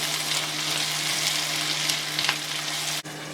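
Crushed garlic and ginger paste fries in sauce for Sindhi salan, giving a dense, steady close sizzle with faint stirring scrapes and a brief dip near the end.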